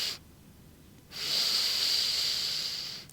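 A single long, deep inhale during a vinyasa yoga breathing exercise, a steady airy hiss that starts after a brief pause, holds for about two seconds and then fades, with no talking.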